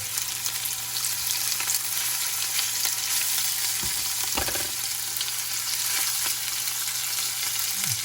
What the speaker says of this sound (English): look at that nice sizzle in action